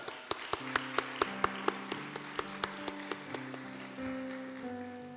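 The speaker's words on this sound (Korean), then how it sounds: "다시 한 번 더 농활 팀장님들에게 우리 박수로 한번 격려하겠습니다" Rhythmic unison clapping from a church youth worship congregation cheering on farm-ministry team leaders, steady evenly spaced claps over sustained organ or keyboard chords, moderately faint and somewhat distant.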